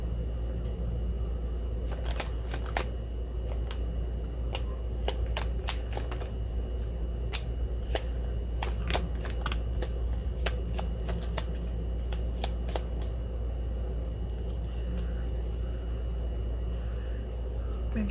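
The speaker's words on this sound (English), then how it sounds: "I always go ahead and shuffle twice with these" A deck of tarot cards is shuffled repeatedly nearby, with quick bursts of riffling and snapping card flicks separated by short pauses over a quiet room hum.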